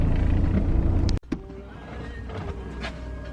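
A horsebox lorry pulls away, its engine rumbling steadily after a short mechanical clunk, with a continuous low drone close by and no voices.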